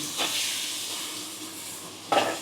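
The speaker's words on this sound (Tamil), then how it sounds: "அப்படியே கடை நல்லா கிளறி விட்டுடுவோம்" Food being stirred in a hot kadai over steady frying sizzle and hiss, with a scraping stir near the start and a louder scrape of the spoon against the pan near the end.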